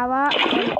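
Water being placed in Minecraft, a short bright splash that cuts in abruptly after a held tone and then trails off, loud and close in a game setting.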